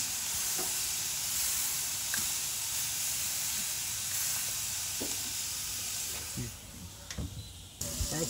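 Steak sizzling and searing in a hot pan for reverse-seared fajitas, a steady loud hiss of frying with occasional pops and a few soft clinks, continuous throughout.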